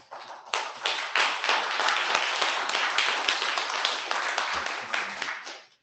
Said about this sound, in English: if everybody could give them a round of applause for all the hard work they do,